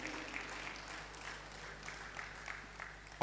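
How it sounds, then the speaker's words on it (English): Scattered applause from a crowd at a women's football tournament draw ceremony, a steady mid-level patter of clapping held at a moderate distance throughout. "A round of applause, please."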